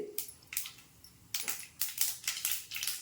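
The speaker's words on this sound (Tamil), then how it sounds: "கல்லெண்ணெய் ஊற்றி கடுகு போட்டாச்சு கடுகு பொரியுது" Mustard seeds splutter in hot gingelly oil in a pan, a series of sharp crackling pops in irregular close bursts with quiet gaps between.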